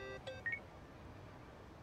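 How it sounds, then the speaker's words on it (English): Electronic phone-call beeps from the video game Yakuza: Like a Dragon, a few short tonal bleeps in quick succession early on, then a faint steady game ambience with no speech. "Kasuga, call me on your phone."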